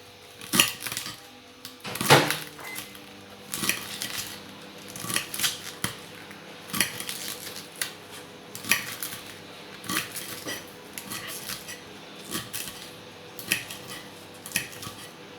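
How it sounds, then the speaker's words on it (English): A knife cuts vegetables into thin strips on a board, giving a run of sharp, close chops and taps at uneven intervals, with one louder clatter near the start. Nobody speaks. "I'm just basically going to cut it into little mini strips"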